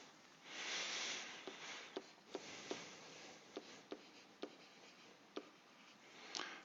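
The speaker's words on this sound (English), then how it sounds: "So I'll write that down." Numbers are written down by hand with a pen or pencil, beginning with a short scratchy stroke and followed by a string of quick, light taps and strokes at close range in a quiet room.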